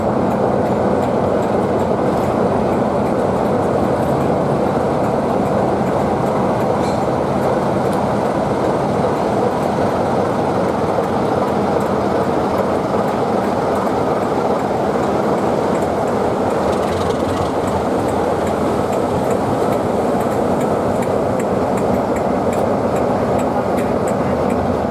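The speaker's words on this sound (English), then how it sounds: "To take the next train Wyndham bound is Class 41 prototype HST Powercar 41001" A British Rail Class 41 prototype HST diesel power car train rumbles steadily past, its heavy diesel engine drone and rolling wheels filling the whole stretch at a constant, close, loud level.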